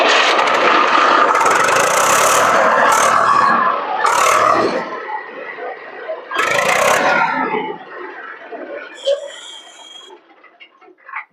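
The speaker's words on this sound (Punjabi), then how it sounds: "ਮੈਂ ਤੁਹਾਨੂੰ ਇੱਕ ਵਾਰ ਟਰੈਕਟਰ ਸਟਾਰਟ ਵੀ ਕਰਕੇ ਦਿਖਾਉਣਾ" A tractor engine turns over and runs with a loud, rough rumble that surges in bursts before settling and fading.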